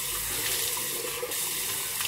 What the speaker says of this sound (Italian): Si sciacqua molto facilmente perché appunto essendoci molto gap, vedete che l'acqua scola molto bene